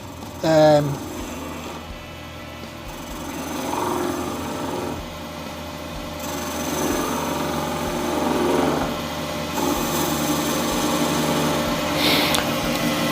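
A lathe turns a polyester resin blank for a green and black shaving brush, a steady whining machine drone running throughout with swelling tool-cutting passes and a sharp knock near the start.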